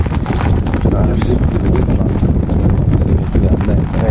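Strong wind buffets the microphone outdoors during rain while fish are caught with a current net, a loud continuous rushing roar beneath voices talking.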